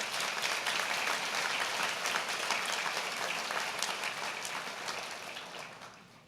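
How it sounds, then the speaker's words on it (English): A large audience at a university convocation ceremony applauds, sustained dense clapping from many hands that holds steady and then begins to fade toward the end, with no talking over it. "Let's give them a big round of applause,"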